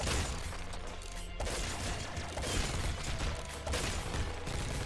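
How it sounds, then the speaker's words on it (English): Dense, continuous gunfire bursts from weapons in the shooter game Nuclear Throne (Ultra Mod), a steady barrage of overlapping shots and booms with no pauses and no talk. "have a few things here that fire big bursts of shots that aren't very ammo efficient"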